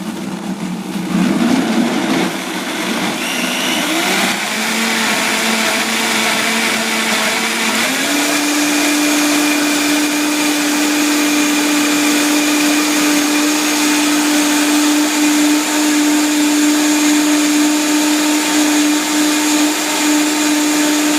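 A Vitamix blender whirs loudly and close while making a green smoothie, its motor ramping up in pitch and settling into a steady high roar that runs without a break.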